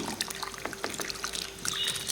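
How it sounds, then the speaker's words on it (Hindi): Rice for chicken biryani is tipped into a pot of boiling water seasoned with bay leaf, giving scattered close splashes and soft pattering trickles over a steady bubbling hum, with no voices. "पानी को बॉयल आ चुका है, और इसमें मैं चावल ऐड करूँगी"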